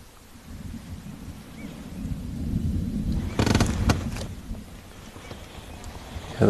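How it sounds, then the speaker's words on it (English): Distant thunder rumbling across an African safari landscape at sunset, a long low roll that swells to a louder crack midway before fading back to a steady rumble. "Hear the thunder rumbling behind us."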